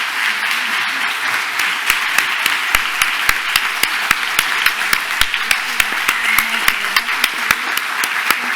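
A crowd applauds at the close of a debate event, with a dense wash of clapping topped by regular sharp, close claps from a nearby person, steady throughout.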